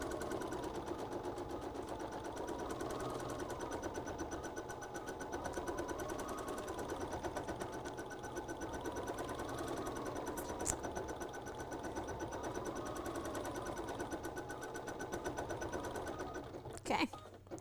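Embroidery machine stitching a design for a Kimberbell crossbody bag project, its steady rapid needle chatter running continuously with a faint periodic wavering, then a brief clunk near the end.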